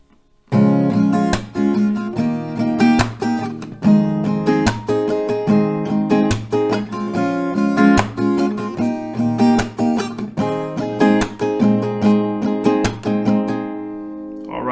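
An acoustic guitar strums chords in a steady, lively rhythm, close and loud, for several bars before ringing out.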